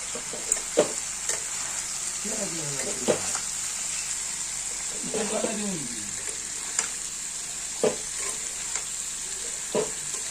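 Crushed ginger frying in a spiced masala, a steady sizzle with scraping stirs and a few sharp utensil knocks, close and fairly quiet.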